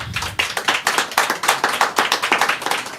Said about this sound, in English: Round of applause for y'all coming out tonight.